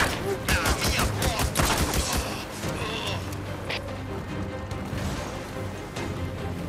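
Rapid bursts of gunfire in the open-world game Days Gone, dense cracking shots through the first seconds and then thinning out over a continuous game ambience.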